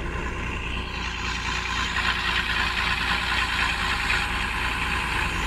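A truck engine running inside the cab on a highway drive from Vellore to Hubli, a steady deep drone with a mid-range hum and rattle, continuous and fairly loud throughout.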